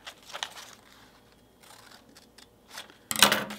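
Scissors snip through felt in soft, quiet cuts up close, ending in a sharper, louder crunching snip.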